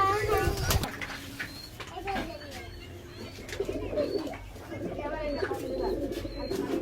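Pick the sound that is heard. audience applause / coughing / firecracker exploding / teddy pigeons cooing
teddy pigeons cooing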